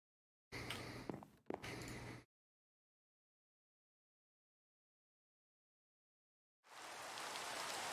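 Steady rain hiss falling in Minecraft, starting partway through after a stretch of silence and continuing alone to the end, preceded by two short noisy bursts.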